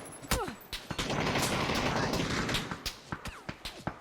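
Rapid bursts of gunfire crackle from a Battlegrounds game, a dense volley in the middle with sharp single shots before and after, fairly loud.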